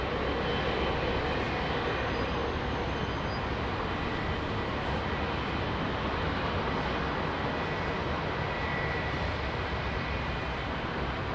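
An Airbus Beluga XL departs Heathrow Airport, its jet engines giving a steady, broad roar at moderate distance that holds evenly throughout, with no voices.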